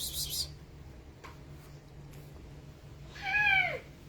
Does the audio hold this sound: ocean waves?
no